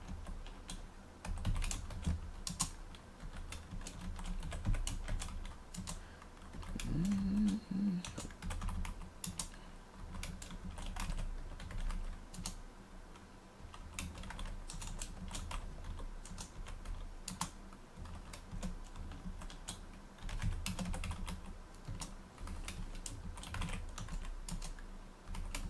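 Typing on a Commodore 64 computer keyboard, quiet and continuous, a steady patter of key presses and clacks recorded close up with a faint low hum underneath.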